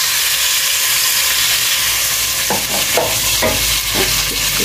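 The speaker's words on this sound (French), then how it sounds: "Donc je vais faire revenir le mélange d'oignons et d'échalotes." Onions and shallots frying in hot oil in a medium saucepan, a steady loud sizzle throughout with several short bursts of scraping as the mixture is stirred in the second half.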